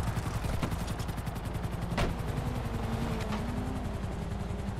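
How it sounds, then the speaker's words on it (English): A helicopter in the video game GTA 5 gives off a steady, rapid rotor chop throughout, with a few sharp gunshot-like cracks on top of the continuous whir. "I hear a helicopter."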